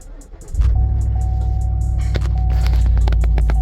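A 2020 Chevrolet Silverado, towed in after the owner did his own brake job, cranks briefly and catches, then settles into a loud, steady idle hum close by, with no talk over it.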